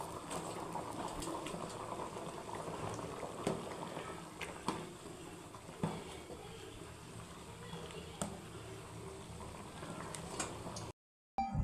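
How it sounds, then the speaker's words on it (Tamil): Thick chicken curry bubbles and simmers steadily in a pot, with occasional louder pops and splutters breaking through the constant boil. "இப்போ நல்லா குழம்பு கொதிக்குது"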